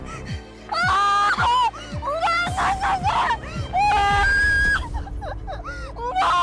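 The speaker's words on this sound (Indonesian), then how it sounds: "Kenapa kamu teriak-teriak?" At night, a person gives several loud, drawn-out screams and wails in close succession over a low background drone.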